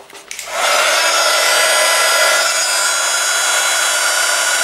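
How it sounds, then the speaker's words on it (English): Heat gun heat-setting embossing powder on a stamped card, a brief click as it starts, then a loud, steady fan-and-air whoosh blowing continuously at close range. "I'm going to use my heat gun to heat set the embossing powder"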